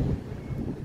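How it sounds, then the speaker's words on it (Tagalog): Strong wind buffets the microphone outdoors, a steady low roaring rumble with gusty swells throughout and no voices. "Sobrang malakas ang hangin guys."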